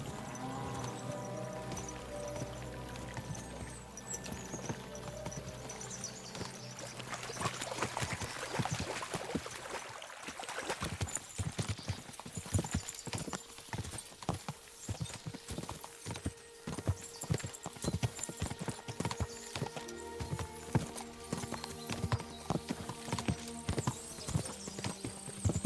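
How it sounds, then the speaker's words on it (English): Horses galloping with steady clip-clop hoofbeats in Kingdom Come Deliverance II, loud and continuous, with an occasional whinny and a stream-like wash of background sound. "we'll give the horses a gallop again."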